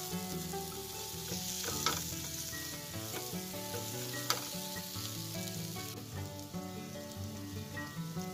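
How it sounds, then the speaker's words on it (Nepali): Cumin and coriander spice paste frying on a low flame, a soft steady sizzle with occasional stirring scrapes, faint and close, with no talk. "एकदमै सानो आँचमा यसलाई भुट्दै भुट्दै जानुपर्छ हामीले"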